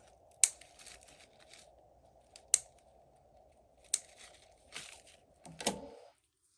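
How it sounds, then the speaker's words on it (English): Small scissors snipping a miniature flower twig for a Rolife DIY flower house kit, five or six quiet, sharp clicks spaced a second or so apart, close and alone in a hushed room. "I have these scissors. I'll cut some of this."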